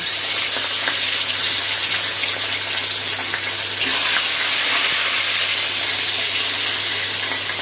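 A steady, loud sizzle of tilapia frying in hot mustard oil, constant hiss and crackle with occasional sharper pops.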